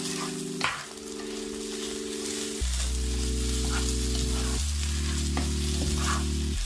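Rice being stirred into a pan for fried rice, soft scraping and light sizzling bursts over a loud steady tonal music bed that shifts pitch in blocks; no voices.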